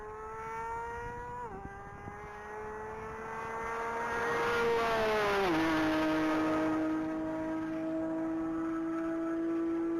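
A Porsche race car passing at top speed at the Texas Mile, its high engine whine rising as it nears, then dropping sharply in pitch as it goes by, followed by a sustained roar fading into the distance.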